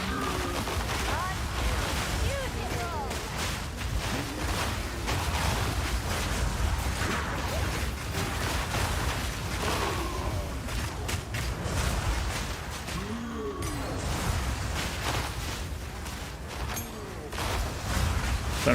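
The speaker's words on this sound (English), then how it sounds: "When I hear the explosion" Spell explosions keep bursting in the video game Path of Exile 2, a dense, continuous barrage of booms and crackles layered with game effects, and a voice talks throughout.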